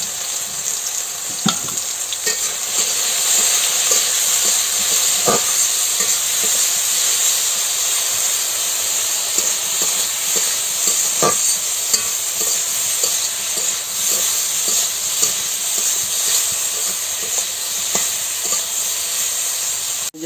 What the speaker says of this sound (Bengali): ওই যে মাটির চুলাতে রান্না হইতেছে, মাটির চুলার রান্না স্বাদ বেশি।